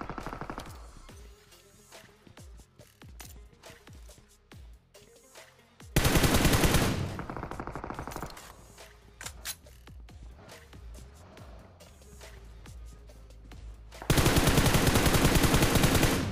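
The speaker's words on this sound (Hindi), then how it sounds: "अभी मेरे को सामने वाले कंपाउंड से बंदों का गन साउंड आ ही रहा था" Bursts of automatic gunfire from enemy players in a mobile battle royale shooter, rapid rattling volleys that start and stop, with loud sustained streams near the middle and end between quieter scattered shots.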